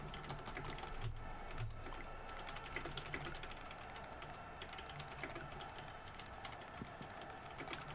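Continuous typing on a computer keyboard, dense quiet clicking with irregular rhythm, close and alone with no talk.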